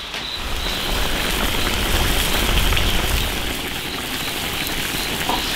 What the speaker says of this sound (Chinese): 我们这边又开始下雨了